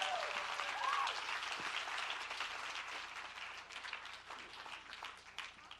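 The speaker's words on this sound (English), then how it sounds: "Let's give them all another big round of applause." An audience at a reception honoring trailblazing women gives the panelists a big round of applause, a dense burst of clapping that gradually thins and fades.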